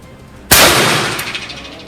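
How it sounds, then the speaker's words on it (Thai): A Smith & Wesson 15-5 revolver fires a single loud, close shot that cracks sharply and then rolls off in a long echoing decay, with no talking. "ยิงจบนะครับ ทั้งหมด5นัดนะ"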